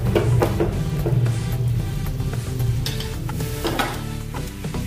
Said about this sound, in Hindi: अच्छे से मिक्स कर लीजिए।